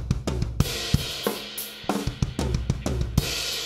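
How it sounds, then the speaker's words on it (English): A rock drum fill on snare, kick and toms, played in a 3-3-2 grouping that opens with a snare flam: sharp, loud, close hits in a driving uneven rhythm, with cymbal crashes ringing between strokes and no talk. "It's not your vanilla kind of drum fill."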